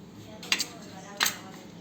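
A metal utensil clinks twice against a pan or bowl while mixing bell pepper bhaji filling, two short close taps half a second apart over a quiet kitchen background.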